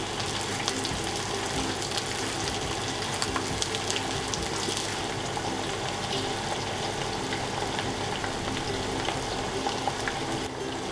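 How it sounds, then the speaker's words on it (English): Chicken pieces frying in plenty of oil in a frying pan over medium-low heat, a steady, dense sizzle with faint crackles, fairly quiet and constant with no talk. "Fry them for 4 to 5 minutes on each side."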